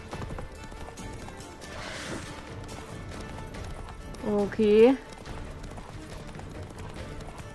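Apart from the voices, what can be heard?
horse galloping in video game Witcher 3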